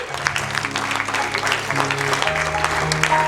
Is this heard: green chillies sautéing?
no